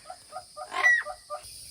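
A parrot at an animal sanctuary aviary gives a series of short, rhythmic calls, about seven quick squawks in a row, close and fairly clear over a steady background hum.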